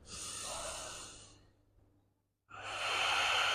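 Deep, audible breathing during a yoga stretch on a mat: a long, fairly close exhale with a breathy hiss fades into near silence, then a strong inhale swells in and stays loud to the end, with no talk.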